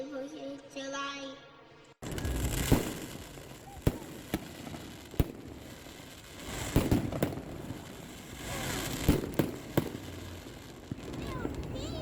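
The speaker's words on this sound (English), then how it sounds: "Fireworks live." Fourth of July fireworks show at Nisqually Rez, distant booms and crackling pops at irregular intervals over steady crowd murmur, with a voice briefly heard at the start.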